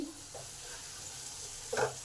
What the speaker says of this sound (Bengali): নিয়ে দুই মিনিট ভাজবো আট মিনিটের জন্য চাপা দিয়ে দিলাম আলুটা ভাজা হবে আর সেদ্ধও হবে